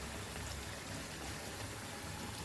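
Water pours into a pot of Goan mutton cafreal on the stove, a quiet, steady splashing trickle that stays faint and continuous for a couple of seconds.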